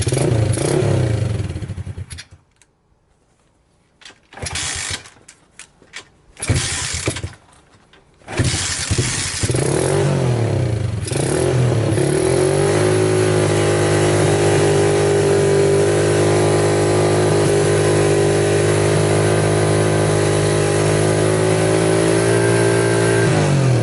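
A Lifan 125 motorcycle engine sputters through a few start attempts, then catches and runs steadily, rising into sustained loud revving close by.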